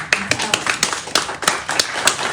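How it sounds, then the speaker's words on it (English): A small group at a town hall gathering claps sparsely, with about a dozen distinct, close hand claps spread unevenly over two seconds rather than a full ovation. "So anyway, let's applaud for them."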